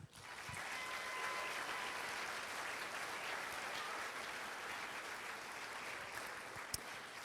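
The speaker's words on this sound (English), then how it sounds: "One more round of applause." A large audience at the Rose Queen coronation ceremony applauds continuously, a broad, even wash of clapping heard from a distance in a big hall.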